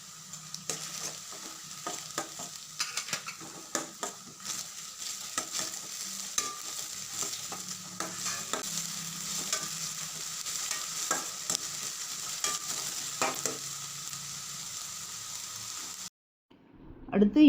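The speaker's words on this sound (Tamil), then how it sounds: "அடுத்து பொடியாக நறுக்கி வச்ச பச்சை மிளகாய் சேர்த்துக்கலாம்" Chopped green chillies sizzling in a pan while being stirred, with repeated scraping and clattering of a utensil over a soft continuous fry.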